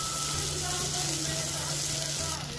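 Chopped ginger frying in a pan of hot oil for a capsicum masala curry gives a steady, close, dense sizzle that holds evenly for the whole stretch, with no voices over it.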